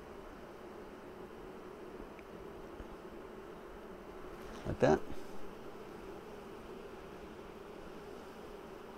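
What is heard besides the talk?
honeybees buzzing during Flow Hive inspection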